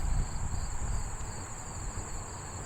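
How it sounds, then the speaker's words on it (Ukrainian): Crickets chirp in a steady high-pitched chorus in William Kain Park, Pennsylvania, over a low rumbling background of noise from a nearby highway. "Тут сверчки,"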